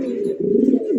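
German Shield pigeons cooing steadily up close, a low, throaty rolling coo that swells in the middle and keeps going without a break, with no voices over it.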